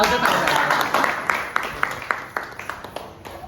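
Applause at a Gauri Ganpati ceremony: scattered, sharp hand claps that grow more distinct over a busy background of voices and room chatter.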